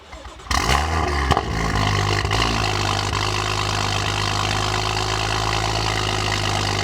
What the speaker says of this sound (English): we're gonna do a startup with the valves open